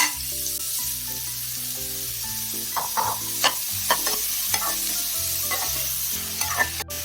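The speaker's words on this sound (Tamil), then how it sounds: "வெங்காயம் நல்லா கோல்டன் ப்ரௌன் கலர் வர வரைக்கும் நல்லா வதக்கிக்கலாங்க" Finely chopped onions sautéing in hot oil for crab pepper gravy, loud steady sizzle with repeated scraping stirs of a spoon against the pan.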